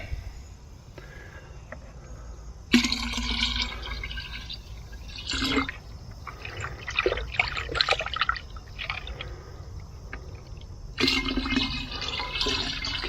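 Water pours into a garden sprayer tank, a rushing, splashing fill that starts abruptly, surges and fades in bursts, then swells again near the end, fairly close with no talk.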